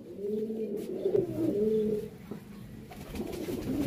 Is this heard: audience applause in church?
no